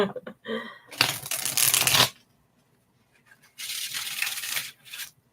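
Tarot cards being shuffled in two distinct bursts of crisp riffling and flapping, close and fairly loud, separated by a quiet pause.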